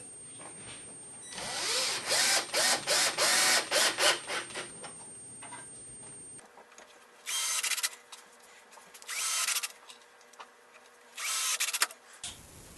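A power drill drives screws into a wooden outdoor potting bench: a long stretch of rapid pulsing whirs, then three separate short bursts with quiet pauses between, close and fairly loud.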